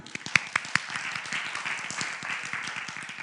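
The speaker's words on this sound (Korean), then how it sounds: "박수, 박수." A church congregation applauds briefly during a sermon, a few sharp claps standing out at first before a steady ripple of clapping continues at moderate volume.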